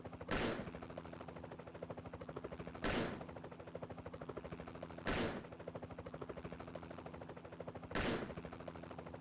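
Gunfire in the video game RollerCoaster Tycoon 3, with four sharp bursts spaced a few seconds apart over a steady droning background hum, with no talking.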